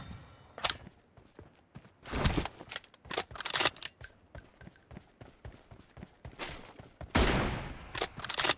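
Gunfire in a multiplayer shooter game: bursts of sharp, loud shots at uneven intervals, some close and punchy, others lighter, amid quieter game ambience with little talk.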